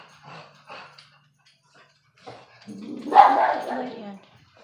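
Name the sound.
dog barking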